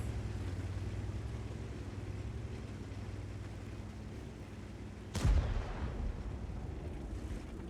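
Tank cannon fire in World of Tanks, heard over a steady engine rumble: a single sharp boom with a short decaying tail partway through, otherwise only continuous low vehicle drone.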